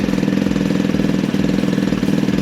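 A 2022 Vitacci Titan 250 fuel-injected motorcycle engine idles steadily close by on its first start, its even, rapid pulsing throb continuing without pause.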